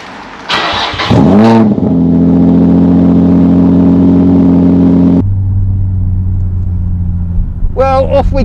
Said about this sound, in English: I've never done a cold start on this car and showed you what it actually sounds like